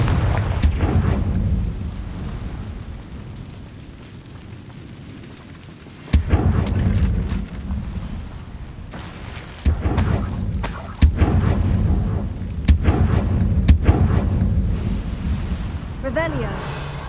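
Confringo fire spells blasting in Hogwarts Legacy during a fight with a giant spider, producing repeated loud booming explosions over a rumbling battle bed, with sharp bursts spaced across the scene.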